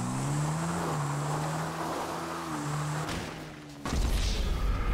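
Motorcycle engine in GTA 5 Online holding a steady droning note with a slight pitch wobble, then cutting off abruptly near the end into a louder, rougher burst.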